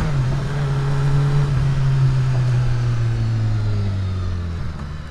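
A brand-new BMW S1000RR sport motorcycle, not yet run in and limited to 9,000 rpm, holds a loud, steady engine drone that sinks at the end, heard close with no talk.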